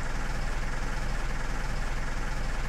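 Tractor engine idling steadily in the Farming Simulator 15 video game, a continuous low rumbling drone with no breaks and no talk.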